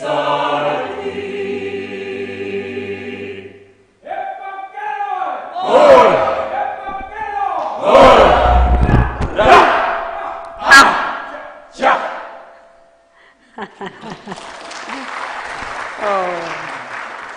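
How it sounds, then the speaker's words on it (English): Concert audience applause and cheering for a choir after an anthem: choral singing fades out at the start, then loud bursts of clapping mixed with voiced shouts and cheers, ending in a steady wash of clapping. "Another round of applause for this wonderful choir."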